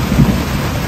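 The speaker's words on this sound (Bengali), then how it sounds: "মেঘ ডাকছে খাই করে" Thunder rumbles through a heavy rainstorm that breaks after a hot day; one low, loud roll swells briefly over the constant hiss of pouring rain, with no voices.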